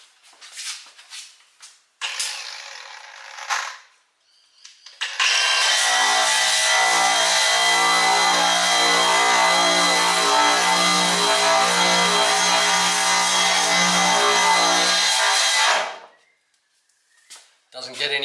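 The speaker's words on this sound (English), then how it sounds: "This is one of those paint removal discs. It doesn't grind or take metal." A paint removal disc buzzes steadily across a weld on thin metal during a rust repair, loud and sustained for about ten seconds after a few short bursts and brief rubbing sounds.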